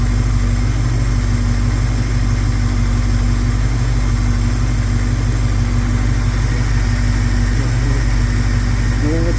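A 1971 Plymouth Scamp engine idles steadily at close range, a low, even hum with a faint whine on top, holding constant throughout with no revving.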